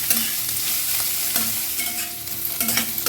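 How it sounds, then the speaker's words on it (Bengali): Chopped onions and garlic fry loudly in a pan, a close, constant sizzle broken by repeated scraping stirs. "পেঁয়াজটা ভালো করে ভাজা হতে থাক"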